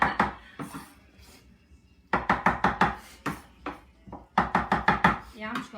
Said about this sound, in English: I'm just gonna leave you to the chopping.